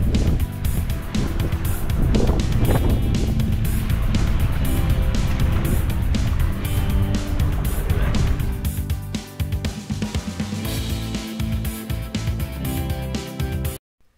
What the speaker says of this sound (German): Hier kann man mit dem Motorboot durch den Felsen ins offene Meer fahren.